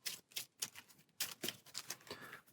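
Game cards from a solo tabletop hunting game being shuffled by hand, a run of crisp riffling bursts in two groups with a short pause between, close and fairly quiet with no talk.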